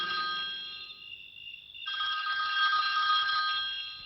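A telephone rings steadily in electronic trilling bursts with a brief pause partway through, fairly clear with no talking.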